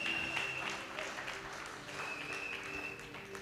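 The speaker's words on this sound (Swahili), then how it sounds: "Pigia Yesu makofi mazuri jameni." A church congregation applauds in a steady, moderately distant wash of clapping, with a voice speaking faintly beneath the noise throughout.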